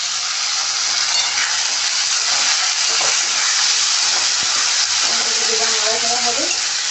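Tomato hits golden-brown frying onions in a hot pan for a desi egg curry, giving a loud, continuous sizzling hiss that fills the whole stretch, with a voice briefly speaking near the end.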